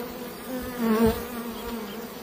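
Honey bees buzz at an apiary hive in a close, steady drone that swells briefly in the middle, with no talk.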